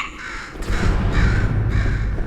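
A crow caws in Portal 2, a few harsh calls repeating over a low, steady rumble of game ambience, fairly loud and close, with nobody speaking.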